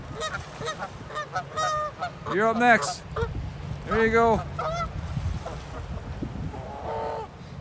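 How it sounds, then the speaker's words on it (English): Goose honking close by in two loud bursts of repeated harsh honks, with a softer honk near the end, while someone talks briefly outdoors. "Sometimes the goose sounds a little cranky."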